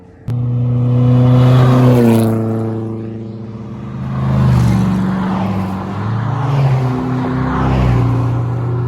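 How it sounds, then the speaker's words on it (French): A JS2 Maserati race car at the Tour Auto 2025 in Côte-d'Or roars loudly past, its engine revving high, dropping in pitch as it goes by, then climbing again, with no talk. "JS2 Maserati."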